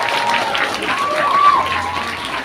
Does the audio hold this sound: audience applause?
yes